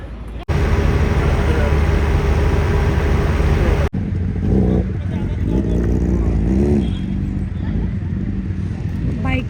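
Motorbikes in a race roar loudly past nearby, a dense engine rush that drops away partway through, leaving traffic noise with people talking over it.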